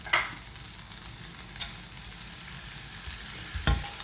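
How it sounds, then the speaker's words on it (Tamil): Burger meat frying in melted butter in a pan, a steady broad sizzle with a brief stir or scrape near the end, close and loud, with no one talking. "இந்த டைம் நான் இறைச்சியை போட்டு பொரிய விட போகிறேன்"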